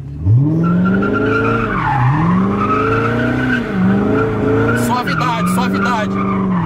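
Sports car doing a smoky burnout, the engine revving and falling in repeated surges while tires squeal loudly and continuously, with shrill scraping bursts near the end and voices talking over it.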